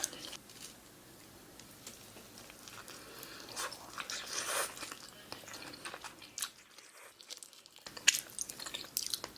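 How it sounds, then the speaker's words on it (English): Someone eating a burrito up close, soft bites and wet chewing with small crunches repeating irregularly throughout, intimate and low in level with a brief quiet gap. "The burrito I'm about to gobble."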